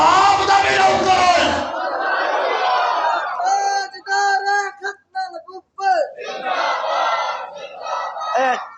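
A crowd at a Punjabi religious gathering shouts slogans in loud unison bursts, with a lone voice leading between the collective cries and a heavy roar of many voices in the opening seconds.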